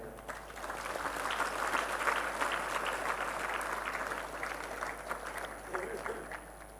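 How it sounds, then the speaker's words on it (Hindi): An audience applauds to welcome Catholic fathers and sisters at a diocesan gathering, a steady mass of clapping that swells and holds at moderate loudness for several seconds, with a faint murmur of voices underneath. "उनका भी हम जोरदार तालियों के द्वारा इस महफिल में स्वागत करें।"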